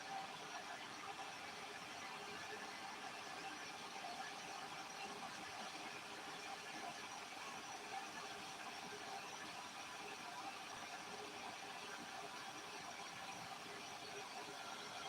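Amalgam boiling off during gold prospecting gives a steady, even hiss that holds unchanged for the whole stretch, faint and with no talk over it.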